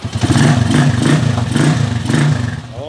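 A repaired motorcycle engine idles close by with a steady, even low rumble and a rhythmic pulsing beat, running alone without talk for about three seconds.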